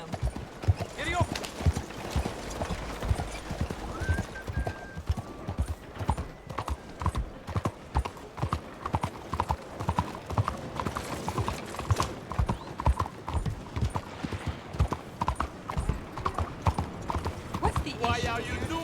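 A horse gallops in Red Dead Redemption 2, rapid continuous hoofbeats pounding close and loud with a brief whinny, while people talk over the hooves throughout.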